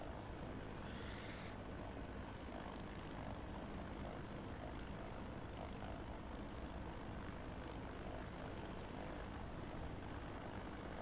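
A helicopter engine drones steadily and fairly faintly at a distance for the whole stretch, with a brief rising whine near the start.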